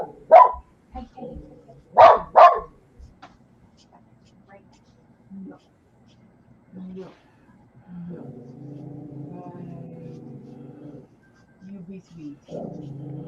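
Two Labrador dogs bark outside in a few sharp, loud bursts near the start, then go quiet while a person talks over a low background.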